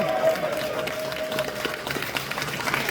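An audience at a Q&A event at Camp Xul in Williamsburg, Ohio claps and cheers, a busy wash of applause with scattered whoops, steady and moderately loud for a few seconds.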